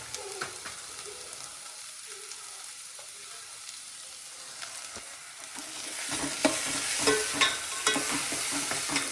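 Spices and ginger-garlic paste frying in a pan for a Konkan-style crab curry, with a soft sizzle and stirring scrapes that swell into a louder, crackling fry midway.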